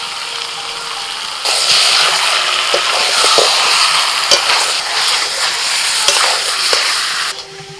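Marinated chicken sautés in a pan as tomato paste goes in. The sizzle jumps louder and holds as a bright, close crackle, with utensil knocks scattered through it before it cuts off.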